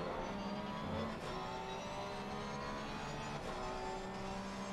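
A Porsche GT3 race car's engine in a sim racing GT3 series race at Barcelona drones steadily with a sustained, tonal, mid-pitched whine and a slight dip in level partway through, with no talking.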